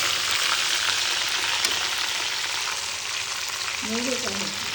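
A bhakur fish head fries in hot oil, a loud dense continuous sizzle like rain on a surface, with a faint voice briefly underneath near the end.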